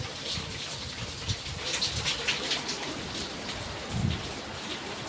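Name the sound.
heavy rain falling in Bangalore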